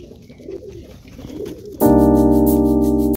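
Domestic pigeons coo softly in a mini zoo where eggs are hatching, a few low calls that are then drowned out by a sudden loud, sustained musical tone.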